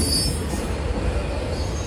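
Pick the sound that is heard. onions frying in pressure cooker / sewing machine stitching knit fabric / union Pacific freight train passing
union Pacific freight train passing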